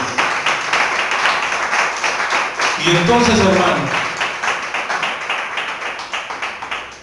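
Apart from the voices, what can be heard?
congregation clapping hands in church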